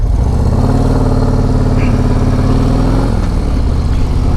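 A 2024 Harley-Davidson CVO Road Glide with its 121 engine rumbles steadily up close as it rides along, a deep continuous drone with a slight shift in tone partway through.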